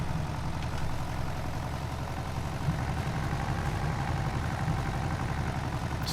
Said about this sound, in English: Scared him off with the tractor noise.